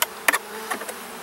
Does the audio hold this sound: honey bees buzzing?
yes